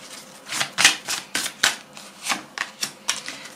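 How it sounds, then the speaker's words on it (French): Oracle cards being shuffled and drawn, producing a series of crisp papery snaps and flicks in an irregular rhythm, close and fairly quiet, with no voice over them. "Je vais tirer 3 cartes."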